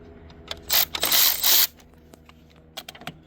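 A wrench works loose the battery terminal on an Infiniti G37 during a Full Throttle performance battery install, giving a few close ratcheting and scraping bursts with lighter clicks and taps afterward.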